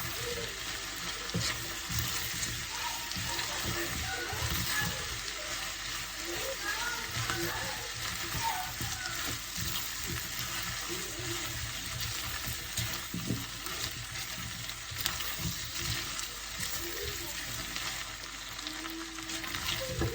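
Beef frying in a pan on a home stove, a steady sizzle with occasional stirring scrapes running throughout, fairly close, with no talk over it.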